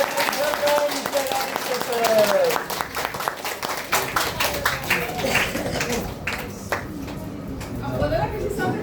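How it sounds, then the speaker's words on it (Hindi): Loud applause welcoming a presenter at a DXN sharing event in Malangawa, Nepal, many hands clapping in a dense, uneven patter, with voices and a whistle-like tone mixed in. "जोरदार तालियों से स्वागत करें।"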